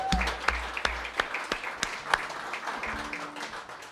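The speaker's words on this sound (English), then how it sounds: "Just a round of applause." Applause at a live music show greets the next performer, a modest crowd clapping steadily with a few sharper claps standing out, heard from a middle distance.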